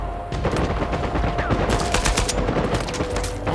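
Rapid gunfire from a firefight in the video game Uncharted 4, with dense bursts of automatic shots and scattered single cracks rattling continuously and loudly throughout.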